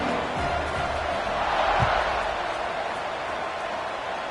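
A football stadium crowd roars steadily in a loud, distant wash of cheering after an extra point at an Arkansas game, with a brief thump partway through.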